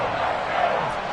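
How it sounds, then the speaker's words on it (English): A football stadium crowd roars loudly during a game on third and long, a sustained wash of cheering under and around a play-by-play commentator's voice. "This crowd turning up the decibel level"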